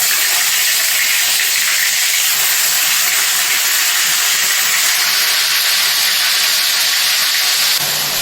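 Onion paste hitting hot oil in a pan, a loud, steady broadband sizzle and hiss that holds evenly for several seconds with no talk over it.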